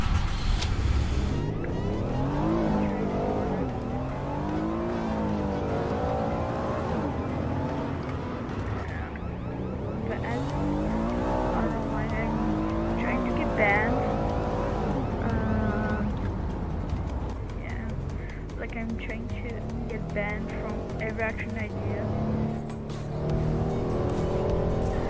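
A truck drives in an El Paso border patrol video game, with a steady engine drone whose pitch rises and falls as it accelerates and shifts, mixed with road and tire noise and running continuously.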